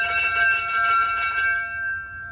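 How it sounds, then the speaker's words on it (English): A metal bell rings continuously in a steady shimmering peal, loud and close, then fades out in the last moments. "If the bell rings continuously"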